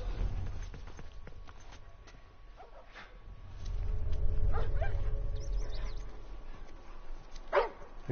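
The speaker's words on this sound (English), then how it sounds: "I just thought the dogs might be hostile" Dogs barking in the video game The Last of Us, scattered barks among footsteps and low ambient rumble, a sharper bark near the end.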